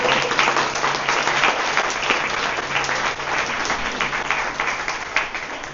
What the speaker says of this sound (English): Let's just give a huge round of applause